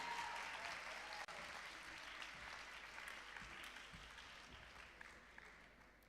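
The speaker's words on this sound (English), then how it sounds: "Keep the applause going, ladies and gentlemen." Applause at the Lignum Vitae Film Festival at Northern Caribbean University, a sustained, fairly faint wash of many hands clapping that gradually tapers over six seconds.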